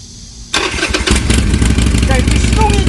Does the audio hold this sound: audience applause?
no